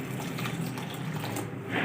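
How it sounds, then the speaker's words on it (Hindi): A glass of water poured into a pan of cooking carrots for gajrela, a carrot rice dessert, giving a brief, soft splash and trickle at close range. "एक गिलास पानी हम ऐड कर देंगे"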